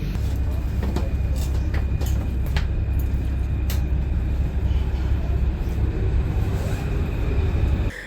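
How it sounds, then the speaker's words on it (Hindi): Interior of a moving train in Paris, a continuous low rumble and rolling hum with faint rattles and clicks, steady and close, with no clear talk. "हम बैठे हैं अब ट्रेन पे।"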